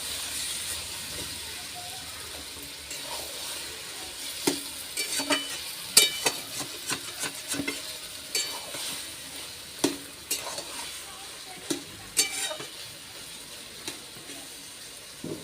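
Hilsa fish curry with green chillies fries in a pan while a spoon stirs it, giving a low, steady sizzle broken by a scatter of sharp scrapes and knocks.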